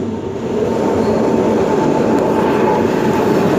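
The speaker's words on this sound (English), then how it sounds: "Is that the train?" A train rumbles past at a station platform, a loud, steady broadband roar with faint rail clatter that holds throughout.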